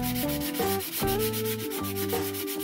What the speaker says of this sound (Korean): 스틱 사포로 한 번 더 다듬어 주겠습니다